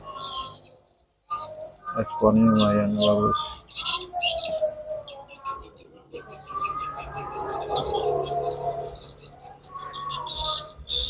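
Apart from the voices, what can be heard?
swiftlets arriving at a swiftlet nesting house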